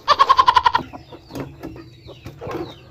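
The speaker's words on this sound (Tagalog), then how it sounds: "Ito rooster din." A Chinese Silkie rooster clucking in a backyard, a quick run of about eight loud, close, evenly spaced clucks, followed by softer scattered clucks and scratchy movement.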